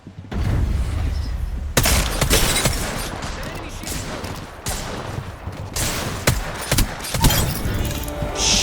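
Dense Apex Legends gunfire in a solo arena match: rapid rattling bursts and sharp cracks stack up loudly and continuously, with thuds and shattering impacts mixed in, while a player talks over the action.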